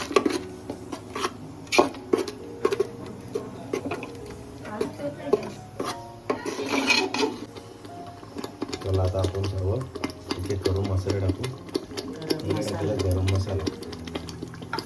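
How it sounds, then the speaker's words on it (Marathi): Tomato puree is stirred into a pot of village-style chicken curry, a spoon scraping and knocking against the cookware in uneven bursts, with a low motor-like hum and voices talking in the background. "आता आपण टॅमॅटो प्युरी टाकू मस्त मिक्स करून घेऊ"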